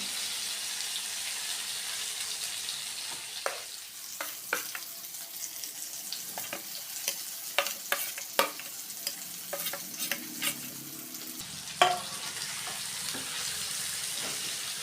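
Leftover masala frying in oil with stuffed brinjals, a steady hiss of hot oil broken by repeated spatula scrapes and knocks against the pan, close and clear, with no talking.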